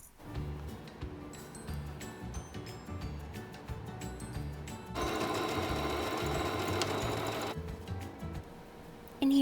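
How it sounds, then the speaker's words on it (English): A sewing machine stitches fabric to close the sleeves of a small DIY cap-and-gown shirt, running in steady bursts with a louder, sustained stretch of stitching in the middle, with no talking. "we're just going to go ahead and sew it down and really close the sleeves for once"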